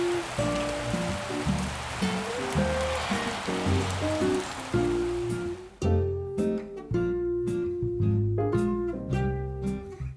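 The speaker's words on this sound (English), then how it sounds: "a rainy day outside, so it's a perfect day for Christmas cookies" Steady rain hiss fills the first half alongside a tonal melody, then the rain drops away leaving the music playing on at moderate volume.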